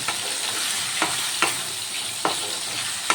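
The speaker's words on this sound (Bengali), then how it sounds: "ভেজে রাখা চিংড়ি মাছগুলো দিয়ে দিলাম" Already-fried prawns get stirred through a sizzling pan, with a soft continuous sizzle broken by several sharp scraping strokes of a spoon.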